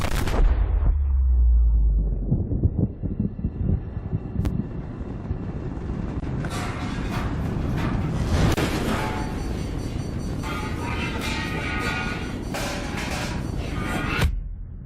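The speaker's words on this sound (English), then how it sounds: "Some explosions." A heavy explosion booms at the start in the video game Subnautica, then rumbling blasts, crackling bursts and a roaring engine-like drone fill the scene, loud and continuous.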